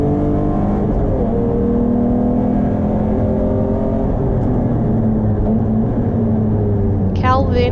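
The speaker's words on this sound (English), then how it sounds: "he catches the Alpha of Bruce Belcher, making the pass down the front straight" A race car at ERC Taupo in the wet overtaking an Alpha down the front straight, engine droning loud and steady as it holds speed past the other car, with a brief higher whine at the end.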